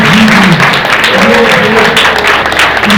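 A church congregation applauds loudly and steadily throughout, and voices sound over the dense clapping.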